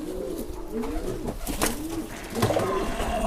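Pigeons cooing in a breeding loft: repeated low, throaty coos from several birds close by, overlapping in a soft rolling rhythm with faint rustling and no speech.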